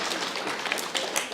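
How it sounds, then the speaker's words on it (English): Graduates at a guide dog graduation ceremony applaud, a brief, faint patter of many hands clapping at a distance. "give yourselves a round of applause"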